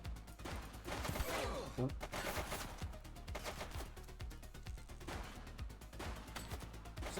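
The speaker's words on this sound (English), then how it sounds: "She's shooting!" Gunfire in a police video game is a faint, dense clatter of shots, with scattered rounds and bursts running throughout amid general game noise and a brief voice.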